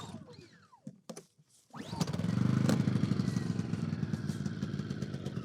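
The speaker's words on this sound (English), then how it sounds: "So that's for starting the generator. And then we'll give it a pull." A NexPow 2250W generator is pull-started with the choke on: a few quick rope-pull rasps, a short pause, then the small engine catches and settles into a loud, steady, chugging run.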